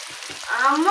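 Onions and potatoes fry together in a pan for a hotel-style chickpea curry, giving a brief, steady, close sizzle that swells slightly louder toward the end.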